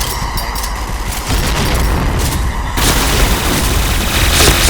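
Explosions boom during a round of the shooter game Point Blank on the Bolt City map. They come as loud, continuous rumbling blasts that build partway through, with no talk over them.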